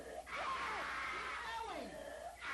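A person screams loudly and continuously during a recovery therapy session, a sustained strained cry with brief dips and renewed bursts, close and raw.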